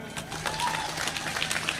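People at a religious gathering give brief, fairly faint applause, a soft patter of clapping heard from a distance with some crowd murmur underneath.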